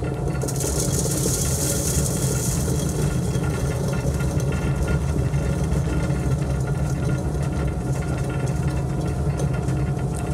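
A grinder (broyeuse) churns vegan milk chocolate with a steady, dense mechanical rumble and rattle, continuous and unchanging throughout, with no voices.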